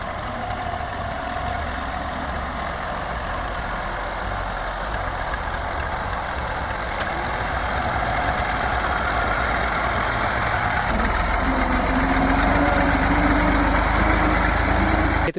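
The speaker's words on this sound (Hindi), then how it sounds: "ट्रैक्टर को मैंने ऑलरेडी निकाल लिया है" A tractor engine idles at a farm field before ploughing, giving a steady low diesel rumble that runs unbroken and grows slightly louder and heavier in the last few seconds.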